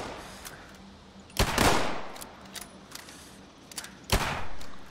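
Gunshots in Fallout 76 during a fight against waves of mutants, two loud sharp shots spaced a few seconds apart with fainter pops between them, no talking.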